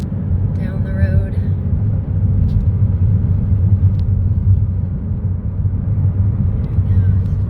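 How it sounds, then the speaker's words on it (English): A big bus drives down a winding road near a park entrance, heard as a steady low engine rumble throughout, with a voice speaking briefly over it. "There's a big bus going"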